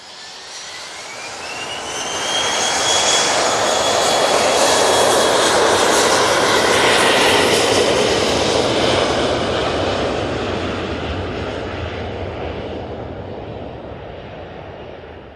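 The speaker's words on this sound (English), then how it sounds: "we've got this Embraer Praetor 600." Embraer Praetor 600 business jet taking off from Manchester Airport: a loud jet engine roar that swells up, holds as a broad rushing thunder with a rising whine, then slowly fades into the distance.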